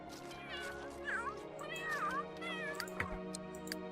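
Several meows from pet cats in The Sims 3 game, rising and falling cries overlapping one another against a steady background hum of game music.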